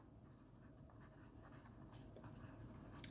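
A pen scratches faintly on paper while solving a maths exercise, in steady quiet strokes close by with no talk over it.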